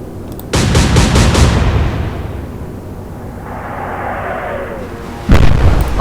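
Naval guns in the warship game Atlantic Fleet fire in a rapid salvo of heavy booming shots, followed by a rumbling lull and another loud blast near the end.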